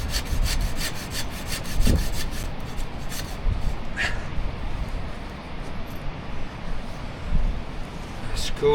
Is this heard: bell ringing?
no